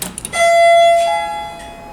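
A vintage Westinghouse traction elevator chime rings out loud and close, one clear sustained electronic tone that fades slowly, with a few faint knocks just before it.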